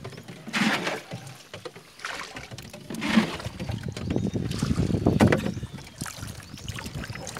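Water being bailed out of an engineless rowboat sloshes and splashes in uneven bursts close by, with scooping and pouring sounds and a faint breeze in the background.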